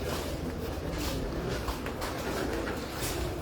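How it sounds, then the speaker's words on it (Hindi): Pigeons in a breeding loft coo in soft, overlapping murmurs, with rustling and flutters of wings as the flock scatters and lifts, steady and close throughout. "कबूतर बिखर रहे हैं उधर।"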